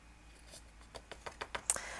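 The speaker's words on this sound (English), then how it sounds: "I am going to be trimming it just with my scissors" Quiet snipping of scissors through card paper for a 6x3 thank-you card, a run of short crisp cuts quickening toward the end, close and alone.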